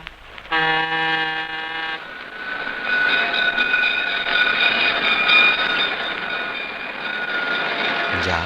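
A train passes at night near a village station: a sustained horn blast opens, then a steady, loud rolling rumble of wheels and cars fills the rest, fading slightly toward the end.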